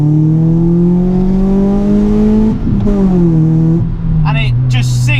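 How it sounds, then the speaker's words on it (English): A naturally aspirated 2-litre Zetec engine in a Ford Fiesta MK6 ST revs hard in second gear from about 3,000 RPM, its loud, close harmonic note climbing steadily, then dipping briefly as it shifts before pulling on. "Very, very responsive from the naturally aspirated 2-litre engine."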